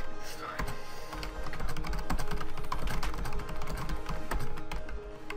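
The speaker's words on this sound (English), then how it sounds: "Oh god, my typing skills are horrible." Rapid, uneven clacking of keys on a computer keyboard runs steadily throughout, close and fairly loud.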